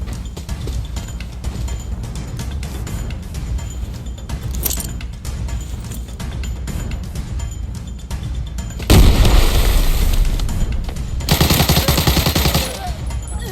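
Bursts of gunfire and explosions in the Arena Breakout shooter game, including an FAL rifle, with loud broadband blasts near the end over a constant busy background of combat noise.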